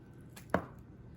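A knife chops through avocado flesh on a board with a single soft, close thunk amid quiet room tone.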